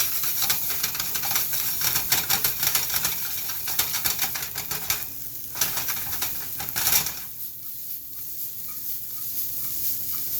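Vegetables for a veggie omelet sweat and sizzle in a pan, a busy crackling hiss with scattered clicks and scrapes, easing to a quieter simmer near the end; no talking.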